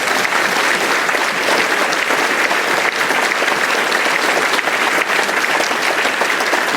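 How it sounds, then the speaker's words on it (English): A conference audience at a UFO event breaks into sustained applause, dense and loud clapping from a full room that holds steady throughout with no speech over it. "So a round of applause to him."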